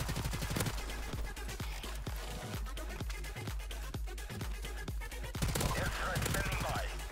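Rapid gunfire from a new weapon in Modern Warfare Remastered, a steady stream of close, loud shots with a somewhat muffled, suppressed character, repeating without pause across the whole stretch.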